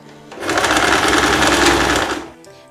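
A sewing machine runs fast and loud for about two seconds, stitching the side seams of a blouse, a close, steady whir that starts and stops cleanly with no talk over it.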